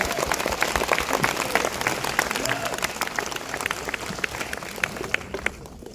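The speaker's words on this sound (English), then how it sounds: "A huge round of applause for the wonderful Gareth Edwards, everybody." An audience at a Q&A with Gareth Edwards in a BFI IMAX cinema gives loud, dense, sustained applause, with many hands clapping at once and thinning slightly toward the end.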